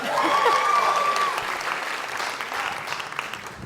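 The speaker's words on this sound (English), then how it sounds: "you can clap for him." An audience at an alumni concert claps loudly for a performer, the applause peaking early and then gradually thinning out.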